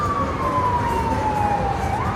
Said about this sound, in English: And now we got our sirens.